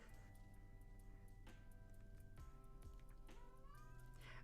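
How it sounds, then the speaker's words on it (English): A house cat meows from behind a closed door, a few faint drawn-out cries rising over low background music and a soft ticking. "my cat is just going to meow outside my door"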